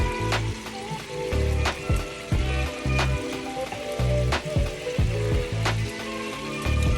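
Fries bubble and sizzle hard in hot oil on high heat, a loud steady crackle with bursts of popping and spitting, no voices.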